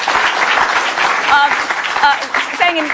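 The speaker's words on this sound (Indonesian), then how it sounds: "Mudah-mudahan kita kasih tepuk tangan pada keyakinan itu." A studio audience on an Indonesian talk show applauds steadily, a dense wash of clapping heard at close range, with a voice speaking over it throughout.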